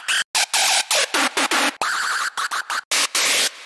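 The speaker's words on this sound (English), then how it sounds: "So we will either make a static screech," A static hardstyle screech synth patch built in Vital blasts in loud, choppy bursts of harsh, distorted noise with gated stops and starts, dense and aggressive, with no voice present.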